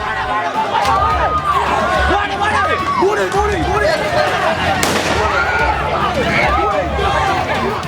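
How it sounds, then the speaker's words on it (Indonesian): A sharp bang of a police warning shot fired into the air cracks out over a noisy, shouting crowd, with agitated voices filling the scene before and after the shot. "Polisi pun terpaksa melepaskan tembakan peringatan ke udara untuk menghalau massa"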